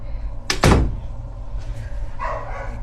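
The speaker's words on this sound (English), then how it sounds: "let me close this door" A house door being pushed shut, a single loud close with a sharp impact and brief rumble near the start, followed by quieter room noise and faint distant barking.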